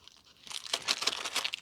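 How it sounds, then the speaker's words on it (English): Crinkling and rustling of a small plastic bag as a model kangaroo is pulled out, a short close burst of crackles that grows louder after a quiet start. "So I can get the kangaroo out of this little plastic bag here."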